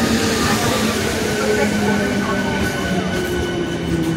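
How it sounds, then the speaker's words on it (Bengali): A train pulls into a station with a loud, steady rumble of wheels and carriages on the rails, a continuous close wash of noise with faint voices mixed underneath. "ট্রেনটা ঢুকছে।"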